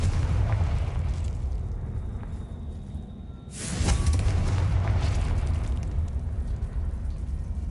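Confringo explosive spell from Hogwarts Legacy blasting once midway, a sudden loud burst rising out of a low rumbling background and leaving a broad roaring wash afterward, no talking.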